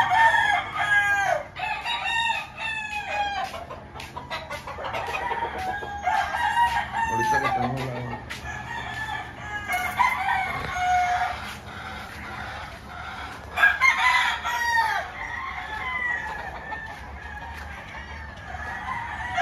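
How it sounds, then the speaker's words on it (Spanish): Chickens and roosters on a ranch, with repeated loud crowing calls and clucking spread across the span, some near and some farther off, over a quiet outdoor background. "Ahí tengo algunos pollos sueltos, algunos pollos."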